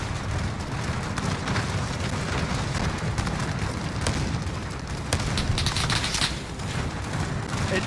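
Rapid, dense gunfire rattles nonstop in Call of Duty Vanguard, a World War II shooter video game, with sharp repeated bursts and loud booming shots filling the whole stretch.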